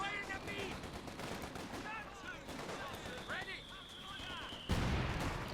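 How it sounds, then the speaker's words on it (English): Infantry gunfire crackles in Company of Heroes 2, scattered rifle and machine-gun bursts mixed with distant battle noise and a sharper blast near the end, under a commentator's voice. "Infantry section is opening fire on the Volk."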